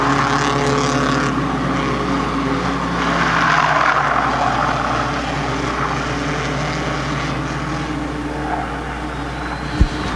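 Hornet class race cars lapping an oval track during the final lap of the feature race, a steady loud engine roar blending into a continuous drone with a sharp bang near the end.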